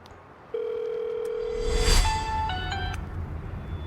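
A telephone call being dialed: a steady dial tone sounds for over a second, followed by a short run of keypad tones, all close and clear with no one talking.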